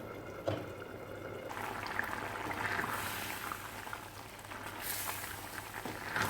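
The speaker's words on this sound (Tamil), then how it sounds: "ஒரு 2 நிமிஷம் கொதிக்க விடலாம்." A pot of pirandai and dried fish kuzhambu, made with adamant creeper and salted fish, simmers quietly with a soft, steady bubbling hiss and faint occasional pops.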